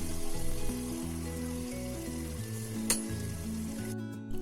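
Steady sizzling of ginger garlic paste frying with softened onions in a pan for a Mughlai chicken curry, constant and close, with a sharp clink of a utensil partway through.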